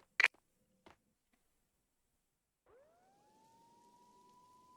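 Police sirens in the video game Max Payne 2 start with a rising wail that settles into a steady, fairly quiet tone, after a couple of brief thuds and silence.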